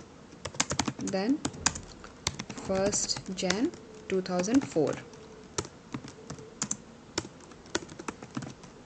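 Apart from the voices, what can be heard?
typing a date of birth on a computer keyboard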